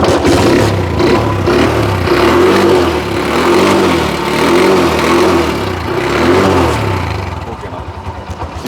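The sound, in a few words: vintage motorcycle engine being started and revved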